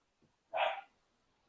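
One short dog bark, faint and somewhat distant, in an otherwise quiet background.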